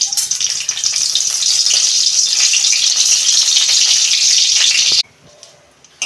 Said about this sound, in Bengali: ওই কড়াতে আমি তেল দিচ্ছি। শুকনো লঙ্কা দিচ্ছি 4টে।